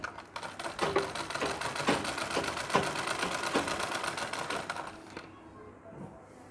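A sewing machine runs a fine, close stitch along the very edge of a nauvari saree border, a dense rapid mechanical chatter that holds steady for about five seconds, then cuts out, leaving a faint quiet tail.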